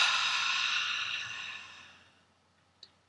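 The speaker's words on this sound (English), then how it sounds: "Breathing out." One long, deep breath out during a tapping relaxation exercise, a soft airy exhale that fades gradually to silence.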